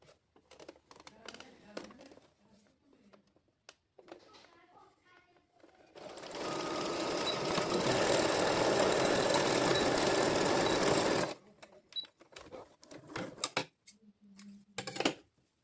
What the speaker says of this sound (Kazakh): Екінші жағынан да аптачканы біріктіріп жатырмын қазір.